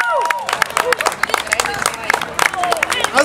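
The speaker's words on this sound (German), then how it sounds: "vielleicht einen kurzen Applaus für Nicolas" Brief round of applause from a small group honoring Nicolas, scattered claps rising and falling over a few seconds with some crowd murmur mixed in.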